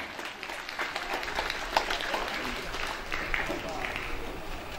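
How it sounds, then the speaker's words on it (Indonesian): Crowd applause at a speech for the Kumpulan Sakti kung fu school, a steady spread of clapping held throughout at moderate level, with scattered voices underneath. "Mari tepuk tangan."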